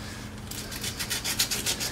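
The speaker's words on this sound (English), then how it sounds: "Come in with some sandpaper, clean these up a little bit" Sandpaper rubs by hand across a drum brake backing plate, a quiet rasping scrape of rapid short strokes that starts after a half-second pause and continues close up.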